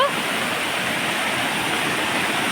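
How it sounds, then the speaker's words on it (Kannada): Floodwater after heavy rain surges through an areca nut plantation, making a loud, continuous, close roar like a waterfall that holds steady throughout. "ಹೇಗೆ ಹೋಗ್ತುಂಟಲ್ಲ ನೀರು"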